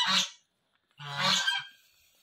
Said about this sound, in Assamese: গঁৰালত হাঁহৰ শব্দ।